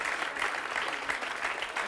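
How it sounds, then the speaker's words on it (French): Enthusiastic studio audience applause on a French talk show, a dense, even wash of clapping with slight swells, heard alone at moderate level. "Je pense qu'on peut vraiment applaudir Sarah"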